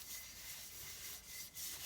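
Steady rasping friction of sanding on wood, a continuous scratchy hiss with slight dips in intensity, fairly quiet and close, no voices.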